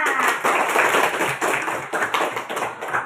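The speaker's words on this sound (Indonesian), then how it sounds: "Tepuk tangan ke temannya" Schoolchildren in a classroom clap for a classmate who has just answered. A dense patter of hand claps comes in uneven bursts, close and fairly loud, with no talking.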